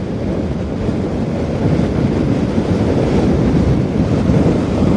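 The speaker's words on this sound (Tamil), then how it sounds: "காற்று வந்து பார்த்திங்க அப்படின்னா நேற்றை விட எனக்கு வந்து ரொம்பவே அடிக்குது" Strong wind rushes over a rider's helmet during a highway motorcycle trip from Tiruchengode to Kanniyakumari, a loud, constant, low buffeting roar with no voices.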